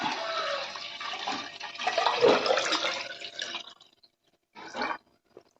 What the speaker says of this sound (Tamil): அரிசி கழுவின தண்ணி நம்ம பால்னு சொல்லுவோம் இதை வந்து இதில் ஊற்றுவோம்